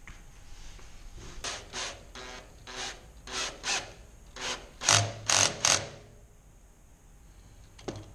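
A drill bit scrapes against the workpiece in a series of short, separate rubbing strokes to mark a second mounting hole for a DIY portable generator remote start. The strokes are close and moderately loud, with quiet gaps between them.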